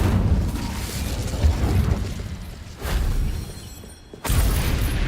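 Incendio fire spell cast in the game Hogwarts Legacy, a loud roaring, crackling fire burst with booming low rumble, swelling and fading in waves, then a fresh sharp flare near the end.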